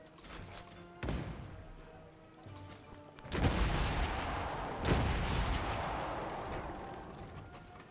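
Field gun artillery in the video game Civilization 7 fires several heavy booming shots, each a sharp blast with a long rumbling tail, one near the start and louder ones later, over a faint music bed.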